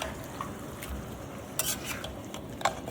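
Beef for biryani stirred and frying in a pan, a steady low sizzle under repeated scraping of a spoon against the metal, with a couple of sharper clinks standing out near the end.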